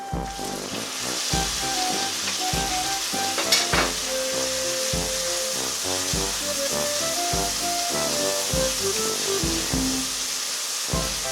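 Fish curry with cut tomato stirred in a frying pan: steady sizzling with repeated rhythmic scraping strokes of a spoon against the pan, close and continuous throughout.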